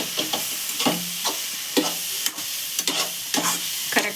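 A spatula stirs dry fruits and coconut with jaggery syrup in a hot pan for ladoos, making rhythmic, close scrapes roughly every half second over a constant sizzle.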